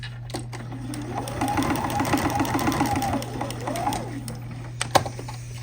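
A sewing machine runs a short burst of stitching along fabric bunting pendants, its rapid even needle rhythm rising and falling over about three seconds above a steady electrical hum, followed by a couple of clicks.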